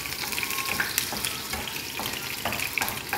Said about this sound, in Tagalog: Halaluin ko muna hanggang sa mag-brown ang sibuyas.